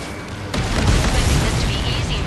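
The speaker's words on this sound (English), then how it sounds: "Did you see that explosion?" A sudden deep boom bursts in, followed by a sustained rumbling roar of an explosion in Ace Combat 7: Skies Unknown, loud and close.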